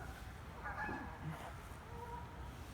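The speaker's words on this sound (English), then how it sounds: "Geese having a fight over there." Geese squabble in the distance outdoors, faint honks and harsh calls rising briefly over a low background rumble.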